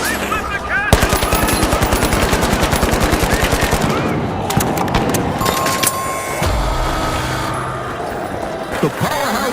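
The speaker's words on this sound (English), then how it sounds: "Deploying turret!" A deployed turret fires in The Finals, a rapid, loud burst of automatic fire in a long rattling stream. It stops, then more gunfire and game noises follow amid a busy match, with an announcer voice heard briefly.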